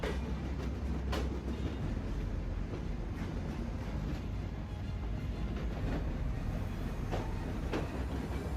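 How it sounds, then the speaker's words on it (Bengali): Train pulling into Benapole station on the Ruposhi Bangla Express: a steady low rumble of rail cars with occasional clacks and clatter, continuous and fairly loud throughout. "বেনাপোল স্টেশনে ট্রেন থামলো ঠিক সময়ে।"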